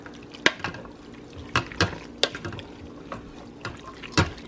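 Spoon stirring chili with broth and pinto beans in a pot, a handful of wet sloshes and soft clinks against the metal rim, close and irregular, without any talking.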